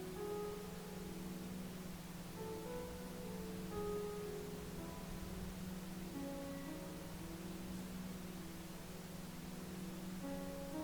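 Steady pink noise plays as a continuous, even broadband hiss, with a low constant hum and faint shifting tonal drones woven through it at an unchanging level.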